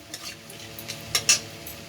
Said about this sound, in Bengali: এবার এই তেলের মধ্যে একটা তেজপাতা, এলাচ, দারচিনি দিয়ে নাড়িয়ে নেব।